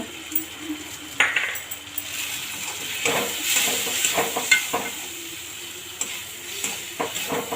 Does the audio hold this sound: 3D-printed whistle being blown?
no